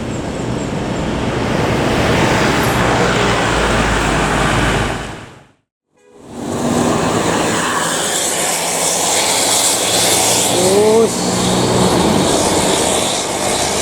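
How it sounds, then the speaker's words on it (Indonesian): A Hino-engined MPM bus roars past on the road at Gunung Medan, a loud, sustained engine rush that dips briefly to near silence midway and then returns just as strong, with no talk. "Ciri khas suara Hino ya, MPM melewati Gunung Medan"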